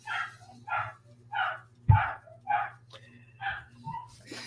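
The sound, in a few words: dog barking and yipping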